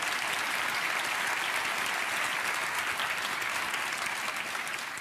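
A theatre audience at a poetry gala applauds, a dense, loud and sustained clatter of many hands clapping that holds steady and eases slightly toward the end.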